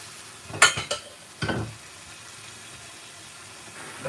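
Base gravy poured into a hot vindaloo curry pan, a few sharp bursts of sizzling and spattering up close, then a low steady simmer.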